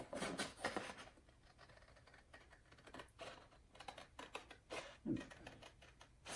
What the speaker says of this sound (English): It's just cutting paper.